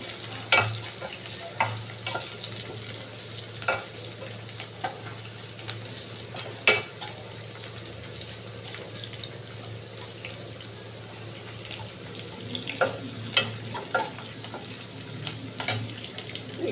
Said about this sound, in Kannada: ಈಗ ಈರುಳ್ಳಿ ಫ್ರೈ ಆಗಿದೆ ಮೆಣಸಿನ್ಕಾಯಿ ಹಾಕೊಳ್ತಾ ಇದ್ದೀನಿ